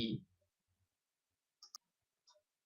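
A few sharp computer mouse clicks, including a quick double click and a later single click, in an otherwise quiet room after a brief bit of sound at the start.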